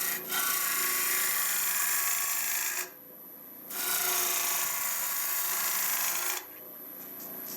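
A tool carves a step cut into a calabash gourd bowl, making two long, close, steady rasping scrapes separated by a short quiet pause.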